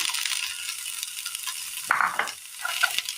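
Cooked cabbage, boiled with curry leaves and salt, tipped into a frying pan with softened onions for a Kerala roast and stirred, giving a soft sizzle with scraping stir strokes and a brief louder splash of food landing.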